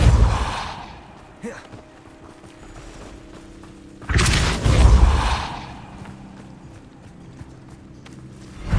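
The Depulso spell in Hogwarts Legacy releases a sudden forceful whooshing blast midway. Quieter rustling and a soft thump come before it, and the ambience settles down afterward.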